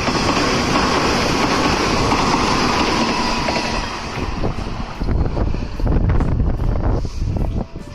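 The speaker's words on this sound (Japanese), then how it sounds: "列車もやってきました" A Hanshin 8000 series train rumbles into Sanyo Beppu Station amid heavy wind buffeting, steady broadband roar with rhythmic clatter growing toward the end, no voices.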